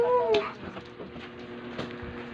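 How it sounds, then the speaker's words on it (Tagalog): A cat gives one short, loud meow near the start, then quieter rustling and handling noises follow. "So, dadalhin ko po ang pusa."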